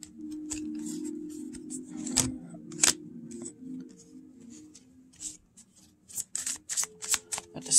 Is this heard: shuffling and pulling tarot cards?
yes